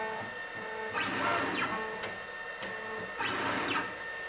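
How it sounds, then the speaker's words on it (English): An OpenPnP pick-and-place machine advances to the next feeder with a steady mechanical whir, two rising and falling servo sweeps and a few sharp clicks, close and moderately loud with no talk. "Now it has advanced to the next feeder."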